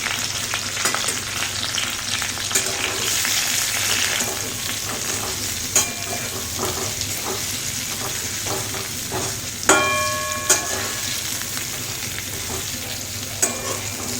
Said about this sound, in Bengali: হলুদ এবং একটু নুন দিয়ে ভেজে নেব পটল।